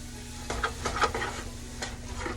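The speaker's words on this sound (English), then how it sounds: "Now we want to add our paprika and our caraway seeds, and give that a good stir." Paprika and caraway seeds are stirred into a pot of sauerkraut soup, a few soft scraping strokes over a low sizzle and a steady hum, close by with no talking.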